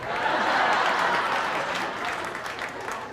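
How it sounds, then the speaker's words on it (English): Audience applause rolls through a stand-up comedy show, dense and loud at first, then easing off slightly while chuckles mix in. "Only the women are clapping."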